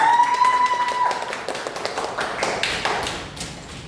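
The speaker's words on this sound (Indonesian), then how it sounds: "Tepuk tangan untuk kita semua." A classroom of students claps together, a dense patter of hand claps that starts strong and tapers off over a few seconds, with a brief tone early on.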